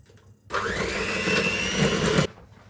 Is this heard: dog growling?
no